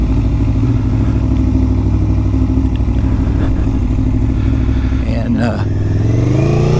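An Aprilia motorcycle engine drones loud and steady from the rider's position, then revs up as it is put into gear and pulls away. Brief wind and clatter come near the end, along with a little speech.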